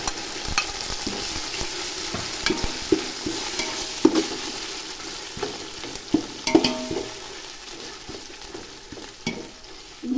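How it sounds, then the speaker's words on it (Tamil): Ginger garlic paste sautés in oil for a mutton biryani, with a constant sizzle broken by frequent scraping and clanking as a spatula stirs the pot. There is no speech. "இஞ்சி பூண்டு வாடை போகிறது வரையும் வதக்குவோம்."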